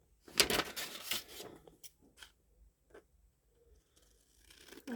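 Scissors snipping through paper during a crafting session: a dense run of crisp cuts and rustles up front, then a few sparse, quieter snips and paper handling after.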